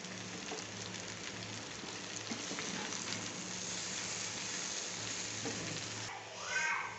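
Ivy gourd fry sizzles steadily in a hot pan with spice powder stirred through, a continuous crackling hiss with soft scraping of stirring, then a brief clatter at the end.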